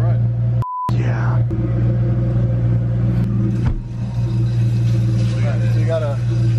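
Steady low engine drone and road rumble inside an 850 hp Ford GT on a ride, a constant close hum with a brief dip midway and faint voices in the cabin.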